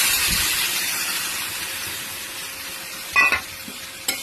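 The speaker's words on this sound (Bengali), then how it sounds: "এবার টমেটো, ভেন্ডি আর আলু দিয়ে দিলাম। এবারে সর্ষে বাটাটা দিয়ে দেবো" Okra, potato and tomato with mustard paste fry in oil, giving a continuous hissing sizzle that slowly fades, broken near the end by a couple of sharp stirring scrapes.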